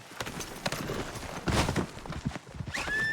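Horse hooves clip-clop briefly nearby amid background bustle, followed by a short high whinny-like squeal near the end.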